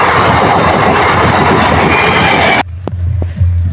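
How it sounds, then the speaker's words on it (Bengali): A train rumbles past loudly and steadily behind a pond, then cuts off abruptly, leaving a quieter scene with a few sharp knocks. "পেছন দিয়ে যাচ্ছে ট্রেন লাইন"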